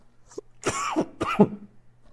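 A couple of harsh coughs, close to the microphone, with a brief throat-clearing sound in between and quiet otherwise.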